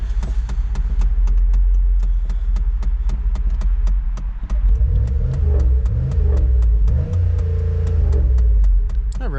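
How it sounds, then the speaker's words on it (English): A Monte Carlo SS engine revs hard against the rev limiter, its loud throbbing drone cut by rapid stuttering limiter pulses, dipping briefly midway before bouncing off the limiter again; no speech. "That rev limiter is kind of annoying."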